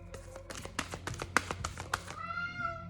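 A cat named Spot meows in a garden. A rapid series of short, tapping, chirpy calls ends in one longer, drawn-out meow. The cat is fairly close and no one speaks over it.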